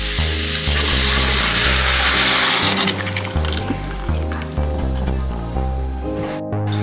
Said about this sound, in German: So, und dann gießen wir einfach unsere Suppe dazu.